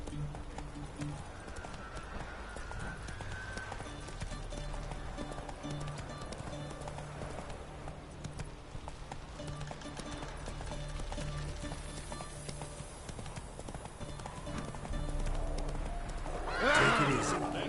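Horse in Witcher 3 galloping with steady hoof clatter throughout, a sharp whinny rising near the end over game ambience; a voice speaks briefly.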